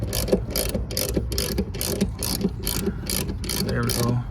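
A ratchet tightening a fuel filter on a Honda Civic clicks loudly and steadily, about two strokes per second, close up, over a low continuous background rumble.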